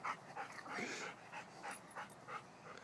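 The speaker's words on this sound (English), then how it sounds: "The dog's limping, but Taylor's okay." Injured, limping dog whimpering and panting softly in a series of faint, repeated whines and breaths at close range, quiet and alone.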